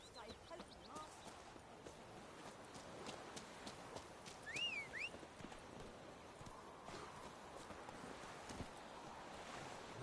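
Roach the horse gallops across open ground in The Witcher 3, hoofbeats running steadily at moderate distance, with background game ambience and a brief whinny partway through.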